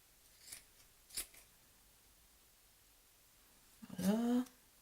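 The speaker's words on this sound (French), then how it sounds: "je vérifie que je coupe bien tout" Scissors snipping wool yarn threads while making a handmade Christmas pompom: a few faint, isolated snips, then one louder, closer cut near the end, in a quiet room.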